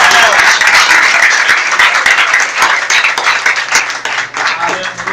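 A church congregation claps loudly in praise, the individual handclaps sharp and close within a lively, uneven burst that gradually thins toward the end, with voices faintly mixed in.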